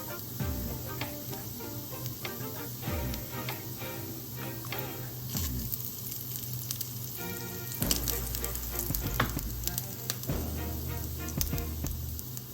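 Fennel seeds sizzle in hot oil with a steady, faint hiss and scattered small crackles, with no other sound around it.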